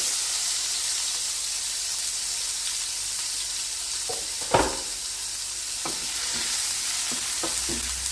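Chopped onions sizzle steadily in hot oil in a pan for an egg pizza, a dense bright hiss with a few sharp stirring clinks and scrapes, close and alone without talk.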